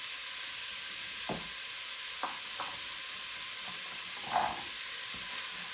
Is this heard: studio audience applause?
no